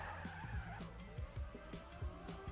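Tires skid and squeal as a car drifts through a corner in a racing video game. A revving engine whines over the top, with a steady, close screech and repeated low thumps throughout.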